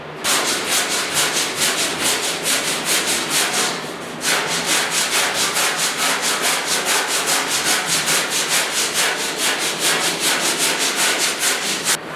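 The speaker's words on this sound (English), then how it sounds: "I stroked it with some 40 grit just quickly after I put it on." Rapid back-and-forth strokes of 40 grit sandpaper scrubbing two-part body filler putty on the hood of a 1956 Mercury pickup, a steady close rasping rhythm with a brief pause partway through, no talking.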